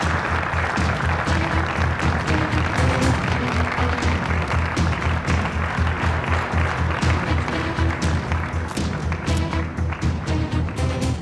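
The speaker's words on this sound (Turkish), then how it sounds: "Alkışlar Yiğit Kozan için." Audience applause as a performer named Yiğit Kozan takes the stage in a drama scene, a loud, steady stream of clapping with rhythmic low thumps running beneath it throughout, fairly close and unbroken.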